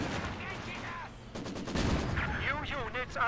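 Maxim machine gun fire in a real-time strategy video game, heard as rapid bursts of gunfire mixed with overlapping battle effects and a tonal in-game voice or sound.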